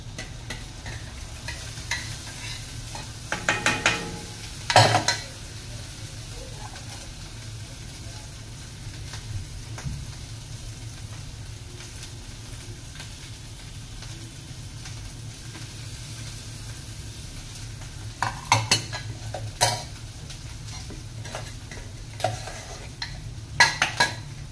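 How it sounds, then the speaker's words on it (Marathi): Onion-tomato gravy is stirred in a hot frying pan, with a low steady sizzle and bursts of metal spoon scraping and clinking against the pan early and again near the end, no voices. "आता ही कांदा टमाटरची ग्रेव्ही त्याच्यात टाकते."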